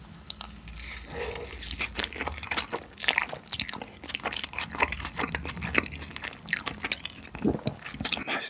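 Takoyaki topped with green onion eaten together with carbonara buldak noodles, made with milk and bacon: close, continuous biting, crunching and wet chewing in an uneven rhythm, with no talking.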